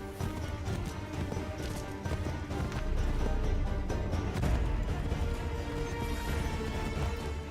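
Horse galloping in the Assassin's Creed III video game, rhythmic hooves pounding continuously at close range over a busy layer of game music and ambience.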